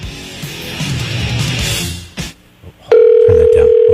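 Telephone dial tone during an outgoing call to a listener from a radio studio, a loud steady tone that starts abruptly after a moment of studio noise and brief voices.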